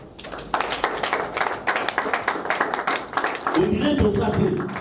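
An audience at a talk on restoring African values bursts into steady rhythmic clapping that builds and continues for several seconds, with voices and cheering mixing in toward the end.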